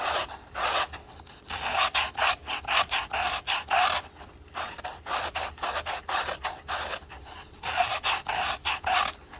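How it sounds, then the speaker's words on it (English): Wooden turkey box call paddle being shaped, a steady run of close, dry rasping strokes of wood rubbing and filing against wood in quick rhythmic bursts with brief pauses between sets. "now I'm going to be shaping the bottom of the paddle"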